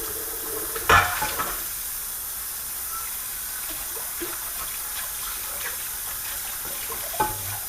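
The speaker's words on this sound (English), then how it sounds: "Off camera, cleaning out my saute pan here." A saute pan being washed out at a kitchen sink, with steady running water, a sharp clatter of the pan near the start and another knock near the end, no voices.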